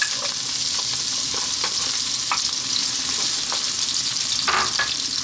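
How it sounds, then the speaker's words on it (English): Onions fry in hot olive oil in a pan, a continuous loud sizzle with occasional soft stirring scrapes and pops, close up and without talk. "So I've got some olive oil in there, heating up, and I'm going to start off by dropping in my onions."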